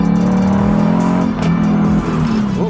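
A modified Lexus ISF accelerates hard from a rolling start, its engine note droning loud from inside the cabin and climbing steadily, with no talking.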